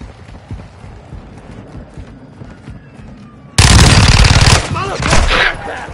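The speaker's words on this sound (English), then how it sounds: "You are taking effective fire." Call of Duty DMZ firefight: quieter ambience with distant shots, then a sudden loud burst of rapid automatic gunfire up close, followed by more scattered shots and echoing impacts; a radio-style voice speaks faintly beneath.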